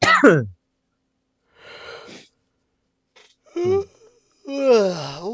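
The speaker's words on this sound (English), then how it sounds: "that was a yawn and a half." A drawn-out yawn with a rising, wavering vocal tone, set among breathy exhales and quiet pauses, close to the microphone.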